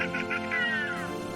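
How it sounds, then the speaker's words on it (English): A cat meowing once in a short, drawn-out, loud cry with a falling tone, heard close and on its own. "C for cat."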